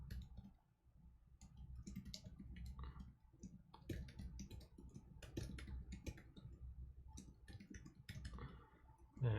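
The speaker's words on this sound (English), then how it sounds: "And this is so much typing." Steady rapid typing on a computer keyboard, close and continuous, the clicks and taps running in irregular bursts with a heavier key thump at the very end.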